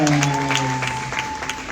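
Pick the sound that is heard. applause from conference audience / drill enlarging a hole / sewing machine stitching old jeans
applause from conference audience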